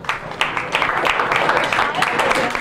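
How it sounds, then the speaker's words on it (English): A comedy club audience claps in a brief, steady burst of scattered hands, fairly loud and continuous, with voices mixed in. "clap if you've ever been through a divorce"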